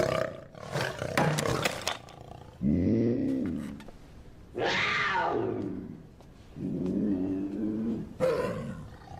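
Puma letting out repeated raspy, drawn-out roars and snarls, close and loud, each cry separated by short pauses.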